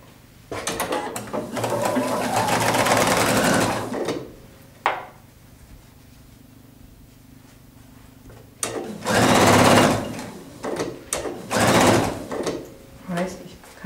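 A sewing machine stitches the shoulder seam of a women's tunic in several loud runs, one long burst, a short one, then a few more bursts separated by pauses, with someone talking in between.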